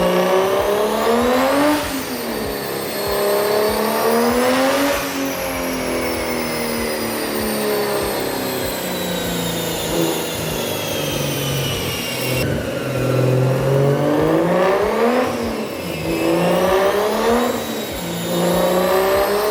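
Big-turbo BMW E36 convertible driving on the road, engine repeatedly revving up through the gears with rising whines and sharp drops at each shift, loud and close, turbo whistle riding over the engine note.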